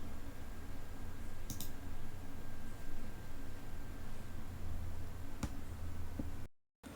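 A computer mouse clicks a few times while an Oracle SQL Developer sign-in is done, isolated faint ticks spaced seconds apart over a steady hiss of background noise.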